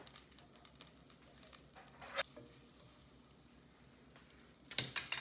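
Butter sizzling in a pan with rice and cinnamon sticks, a faint steady crackle with a few sharper clicks and a louder burst of spatter near the end, close and quiet, no voices.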